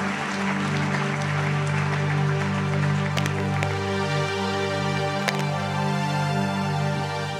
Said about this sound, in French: Acclame très fort, on va monter.